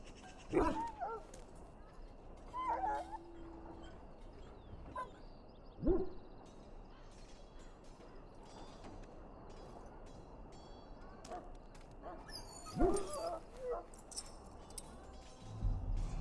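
Dog in the Dragon Age: Origins video game whimpering and yipping in short scattered bursts with a few barks, against a quiet ambient background with some birdsong.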